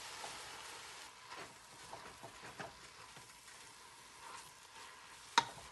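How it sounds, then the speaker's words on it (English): Ugali with kale being slowly stirred in a pot, soft intermittent scraping and a faint sizzling bubble, quiet and close, ending with one sharp knock of the spoon against the pot. "And then we just slowly stir this."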